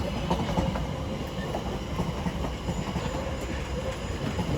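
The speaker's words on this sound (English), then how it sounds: "Soon to arrive in now will be a terminating London Overground service from Watford Junction" A London Overground class 710 electric train arriving at London Euston, a steady rumble with rhythmic clickety-clack of wheels over rail joints and faint squeals, heard from the platform.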